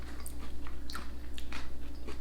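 Thin, crunchy Peter's Yard crackers topped with cheese being bitten and chewed up close, a series of crisp crunches and snaps over a steady low background hum.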